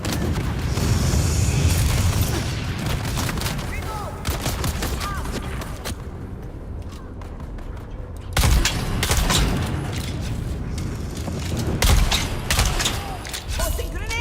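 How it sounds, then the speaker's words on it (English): Grenades and gunfire in the Dune Awakening video game, with loud booming blasts and bursts of shots filling the mix, a brief lull near the middle, then heavy impacts resuming. "Tossing grenades"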